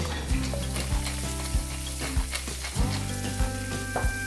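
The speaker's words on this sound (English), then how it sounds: "in the same pan we've just put the butter and we're going to be adding the zucchini slices and making sure that we nicely toss it" Zucchini slices sauté in butter in a pan, a steady close sizzle and frying hiss broken by repeated soft clatters as the pan is tossed and stirred, with no talking.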